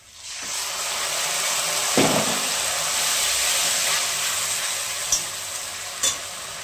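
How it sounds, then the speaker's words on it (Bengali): Spices (cumin, coriander, ginger, garlic, chilli and garam masala) frying with onion in a pan, a steady close sizzle with a few stirring scrapes and small pops, no talking. "এবার মশলাটা দিয়ে দিলাম"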